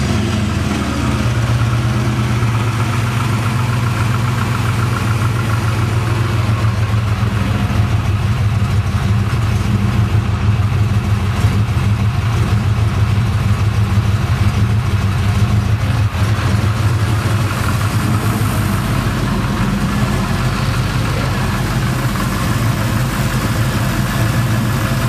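A 383 cubic-inch engine with throttle-body fuel injection runs at a steady idle, a continuous low rumble holding even and loud throughout with no voices over it.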